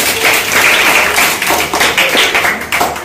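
A crowd claps steadily and densely to welcome guests at a school supplies distribution held by a journalists' association at Usarli school, a loud, close, continuous patter of many hands lasting several seconds.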